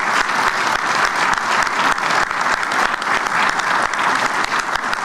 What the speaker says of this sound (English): you should and must clap for that